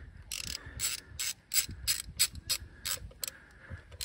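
Ratchet wrench snugging down spark plugs on a Vauxhall 1.4 Ecotec engine, a series of about eleven sharp clicking bursts in an uneven rhythm, close up and clear with no talking.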